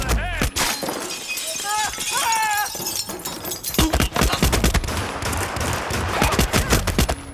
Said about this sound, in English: We got someone firing a gun, people.